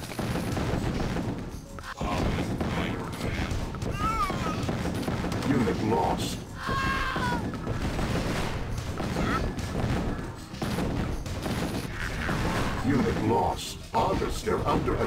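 Gunfire and explosions in the real-time strategy game Command & Conquer: Tiberian Sun, a dense continuous barrage of shots and blasts over a steady game soundscape, with unit announcer voices and in-game chatter mixed in.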